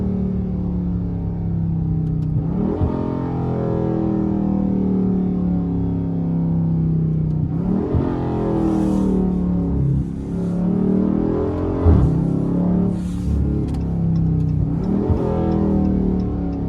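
A Dodge Charger 392 Scat Pack V8 in sport mode pulls hard through several gears, its loud, close engine note rising in pitch, then falling briefly at each upshift before climbing again.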